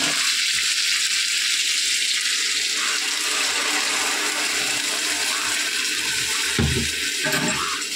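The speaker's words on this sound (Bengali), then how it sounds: "এইবারে আমি এর মধ্যে জল দিয়ে দেবো।" Water poured into a simmering Bengali katla fish and cauliflower curry makes a continuous rushing splash, loud and close, steady for several seconds with no talking.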